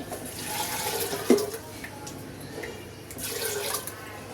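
Water is poured into a metal pressure cooker with dal in a short splashing gush, then a second pour follows after a brief pause.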